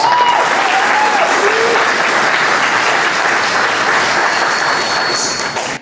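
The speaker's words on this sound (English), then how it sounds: "let's give those two ladies a round of applause" An audience at a community fundraising event applauds the organizing committee, steady dense clapping filling the room at close range and holding for several seconds before tapering off.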